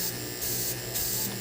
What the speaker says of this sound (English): So just spray little bits of purple just on top.